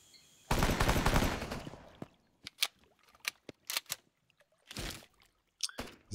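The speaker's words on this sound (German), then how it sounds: "die schießen zurück" Rapid bursts of enemy gunfire in Rambo: The Video Game, a loud dense volley at the start followed by scattered sharp single shots and short bursts, close and punchy with quiet gaps between.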